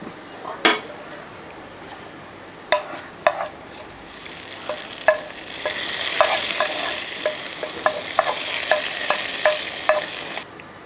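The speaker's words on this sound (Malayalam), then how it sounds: "ഈ താളിത്തൊക്കെ നമുക്ക് ഇതിൻ്റെ അകത്തോട്ട് ഒഴിച്ചു കൊടുക്കാം" Hot tempering is poured into a kilimeen fish curry. Scattered sharp clinks of a utensil against the pan come first, then a loud, hissing sizzle swells and continues under more clinks.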